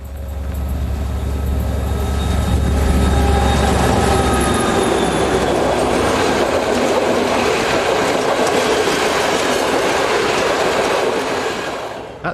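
An M62 diesel locomotive hauls a train past at close range, its deep engine rumble giving way to a loud, steady roar of rolling wheels and carriages that holds throughout before easing off at the end.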